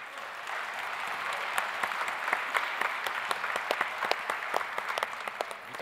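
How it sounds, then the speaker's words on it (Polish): A gala crowd claps in a steady wash of applause as a guest is called to the stage, with sharper individual claps standing out at a moderate distance. "Wielkie brawa!"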